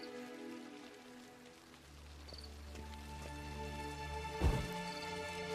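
Steady rain in The Witcher 3 patters on surfaces as a continuous wash, with a low rumble beneath and a sharper splash or thud near the end, no voices.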